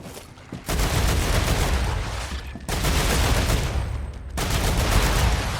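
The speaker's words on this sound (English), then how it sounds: "Dude, someone's shooting." Sustained bursts of gunfire in StarRupture, three loud, dense barrages separated by brief drops, heavy and close, with no talking.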